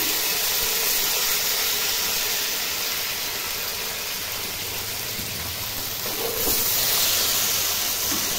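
Taro leaves (kochu shak) dropped into hot oil with fried onion give a steady, broad sizzling hiss that holds throughout and swells slightly near the end, with no talking.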